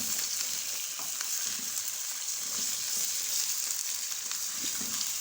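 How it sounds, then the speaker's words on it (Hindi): Chicken pieces frying in a pot for degi shahi chicken korma, a steady dense hiss of oil crackling evenly throughout with faint occasional stirring scrapes underneath, close and unbroken. "इस तरह से इसको अब हम इसमें फ्राई करेंगे।"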